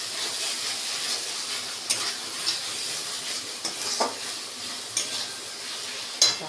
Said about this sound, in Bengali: ডিম আলু সেদ্ধ করে নিয়ে সব মশলা দিয়ে কষে নিয়ে